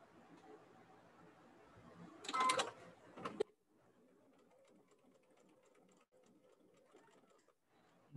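A home sewing machine stitches fabric again just over a previously sewn line, a quiet, steady mechanical whir running throughout, briefly interrupted by a louder rustling burst of handling near the middle.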